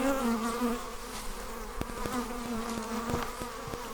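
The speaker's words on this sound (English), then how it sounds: "A lot of bees." Steady droning buzz of many bees nearby at a hive, with a few sharp clicks and taps scattered through the second half.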